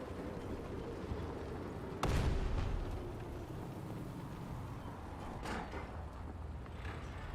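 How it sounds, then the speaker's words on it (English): Artillery strike in a low-tier tank video game: a loud, sharp boom at about two seconds with a rumbling tail, a second fainter impact a few seconds later, over steady engine and battle noise. "Call some artillery down on them."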